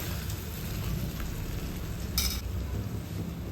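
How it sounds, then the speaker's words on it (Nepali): Pork frying with turmeric in a pan, a steady close sizzle with soft stirring scrapes and one brief sharper crackle partway through. "हल्दी एकछिन छोप्दै चलाउँदै भुटिदिने"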